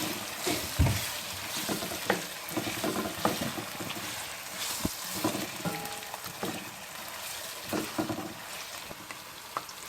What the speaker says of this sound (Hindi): अब इनको हल्का सा हमने भूनना है